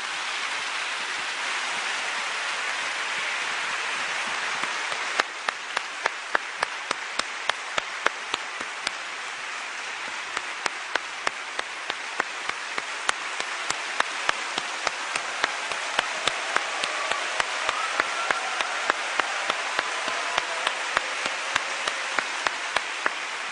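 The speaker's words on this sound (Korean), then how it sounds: "큰 박수로 맞아주십시오." At a testimony concert, an audience applauds at length to welcome a speaker. The dense, steady clapping is rain-like, with sharper individual claps standing out, and no talking over it.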